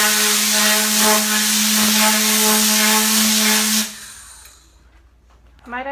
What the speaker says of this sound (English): this is like a super cool air gun basically. It's called a Tornador.